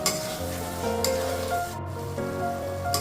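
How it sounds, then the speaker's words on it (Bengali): Fried potatoes sizzle and get stirred with spices in a pan for chicken curry, with steady close frying crackle and occasional scraping stir strokes and no voices. "আলুগুলো দিয়ে আমি আরও পাঁচ সাত মিনিট এইভাবে কষিয়ে কষিয়ে রান্না করব"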